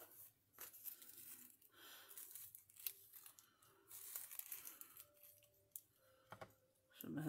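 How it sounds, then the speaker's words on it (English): Stamping tissue paper ripped by hand in short, faint tearing and crinkling bursts that come in irregular spurts, close up and quiet. "We're going to rip and create almost like a washi tape in a way."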